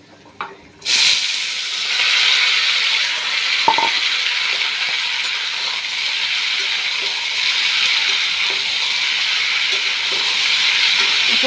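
Pumpkin fries in hot oil with panch phoron spices, a loud steady sizzle that bursts in after a quiet start and holds a dense hiss, with a brief clink of stirring.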